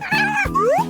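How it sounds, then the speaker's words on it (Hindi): A cat meows twice in quick succession, close and loud, the second call rising in pitch, with no talking. "अरे देखो कितनी प्यारी बिल्ली है।"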